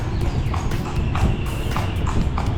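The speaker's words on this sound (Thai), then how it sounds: "นั่งรถม้ากันนะ" Hooves of a horse pulling a carriage at night on the streets of Lampang, Thailand, clip-clop in a steady rhythm over a constant low road rumble, nearby and clear, with no talking.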